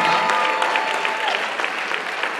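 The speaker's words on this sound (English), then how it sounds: "How about a round of applause for these two?" Pageant audience applause at the Mrs. DC and Mrs. MD International Pageants, a steady wash of clapping from a crowd heard close and fairly loud throughout.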